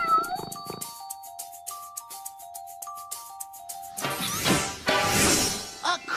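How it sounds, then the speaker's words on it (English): A cartoon cat for a kids' show, given as bright, stylized meowing tones sliding across a sparse musical backdrop of plucked notes, followed by a brief burst of clattering crash effects near the end. "A creeping cat!"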